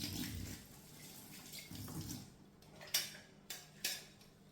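Raw chicken rinsed under running water in a kitchen, with a quiet stream of splashing, then a few sharp, close knocks and clinks toward the end.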